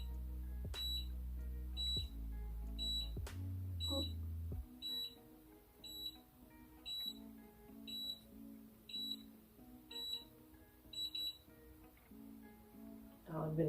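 A Conair Unbound cordless auto hair curler gives a series of short, evenly spaced high beeps, about one per second, while a low hum fades out early and faint clicks sound between them.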